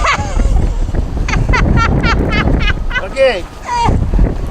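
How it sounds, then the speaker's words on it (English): Strong blizzard wind buffets the microphone outdoors in deep snow while a sled is held against it, a loud continuous roaring rush with gusts, under a person's brief speech. "I'll demonstrate how strong the wind is blowing by holding this sled."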